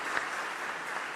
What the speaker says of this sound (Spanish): Quisiera que le diéramos un fuerte aplauso a su excelencia, Monseñor José Luis Escobar Alas